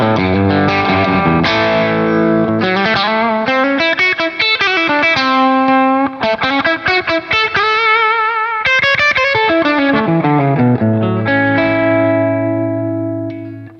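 Electric guitar through a lightly driven Kaluna overdrive pedal set low, playing a melodic lead line with sustained bends and slides, loud and close, with a touch of reverb and no voices.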